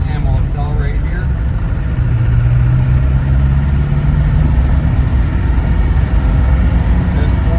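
A 1994 Land Rover Defender 90 with a 200Tdi diesel engine accelerates after a downshift into third gear, a steady mid-range engine drone rising slightly in pitch, heard from inside the cab.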